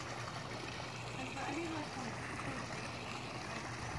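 Water trickles steadily from a homemade backyard pond waterfall, a soft continuous wash with a low hum underneath and a faint voice in the background.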